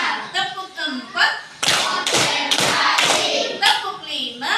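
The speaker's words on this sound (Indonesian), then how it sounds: "Tepuk tangan untuk kita semua." A classroom group claps in short bursts and counted patterns, then breaks into a longer round of applause, close and lively, with a teacher's voice leading between the claps.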